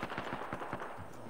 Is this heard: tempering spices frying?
no